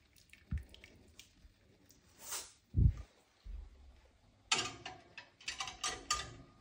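Glass jars of sealed vegetables are lifted out of the water in an electric preserving canner, giving scattered clinks and knocks of glass and metal, a few dull thumps, and light dripping and splashing nearby.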